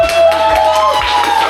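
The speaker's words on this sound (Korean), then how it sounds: "박수!" Studio audience applause during a televised cooking class, a dense crowd clapping steadily for about a second and a half with some cheering mixed in.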